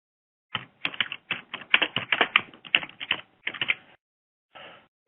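Rapid bursts of keystrokes on a computer keyboard, close and fairly loud, clattering in quick irregular runs for about three and a half seconds, then a brief pause and one last short flurry.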